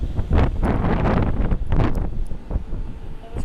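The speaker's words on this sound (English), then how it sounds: "It's windy, it's cold." Gusty wind buffets the microphone outdoors on a cold, drizzly night near an airport, producing uneven low rumbling bursts that swell and fade for a few seconds.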